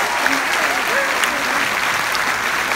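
Loud, dense applause from a cruise festival audience for a band after a set, with a voice briefly heard over the continuous clapping.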